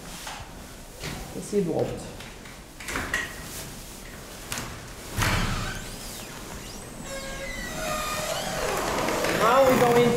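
Entrance doors of the seed vault swinging open and shut, with several solid thuds and clunks spaced through the clip under a person talking, then a rising hum and a faint squeal toward the end.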